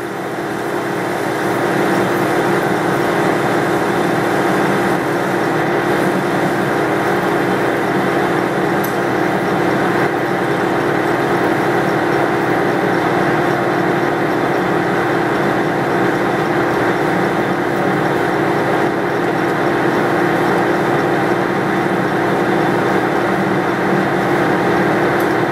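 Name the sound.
machine tool cutting away the side of a metal part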